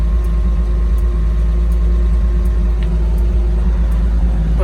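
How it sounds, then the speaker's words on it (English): A 1983 Jeep CJ7 engine idles steadily up close, a loud low rumble with a slight rhythmic chugging running through it and no talking. "The engine seems to be running good. You can just see the little bit of chugging that's going on"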